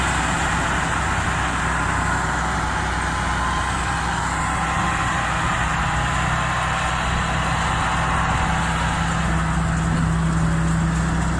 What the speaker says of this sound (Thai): เหมือนว่าจะเร่งเครื่องเบาไปนิดนึงครับ